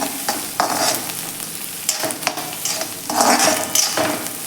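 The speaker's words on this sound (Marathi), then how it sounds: "थोडीशी कोथिंबीर आपण परतून घेऊया त्यामध्ये हे व्यवस्थित मिक्स करून घ्यायचं आहे आपल्याला" Turmeric and fresh coriander sautéing in hot oil for vermicelli upma, a steady sizzle broken by repeated scraping stirs and a few clinks of a spoon against the pan, close and fairly loud.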